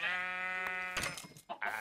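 A sheep in Yolocraft bleats with a long, wavering nasal call, then gives a couple of shorter broken bleats, close and clear against a quiet background.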